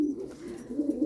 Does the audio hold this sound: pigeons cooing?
yes